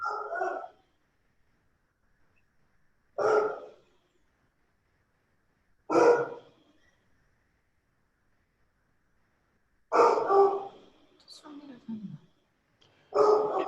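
A pet dog indoors barks excitedly in single, fairly faint barks spaced several seconds apart, with quiet gaps between them.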